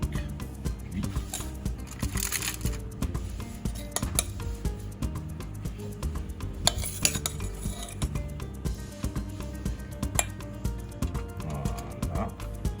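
A small spoon scoops filling onto raw oysters, making repeated close clinks and scrapes against shells and dishware in an irregular rhythm that runs steadily for about thirteen seconds.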